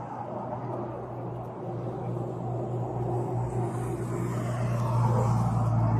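A car engine idling during a police DUI stop, a low steady rumble with a constant hum that grows slightly louder toward the end, with no talking.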